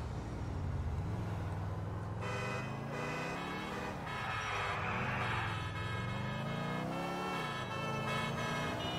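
Car driving in Grand Theft Auto 4, a steady engine drone rising and falling in pitch as the vehicle accelerates and shifts, with game music and traffic sounds layered over it, no talk.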